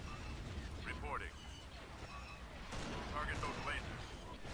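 Laser cannons fire in a Star Wars Empire at War Remake 4.0 space battle, with dense, low rumbling blasts and bursts of twisting, zapping effects, under a continuous wash of battle noise.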